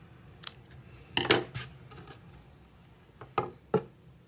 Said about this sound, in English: And then at this point you can cut your white yarn, again leaving a tail end.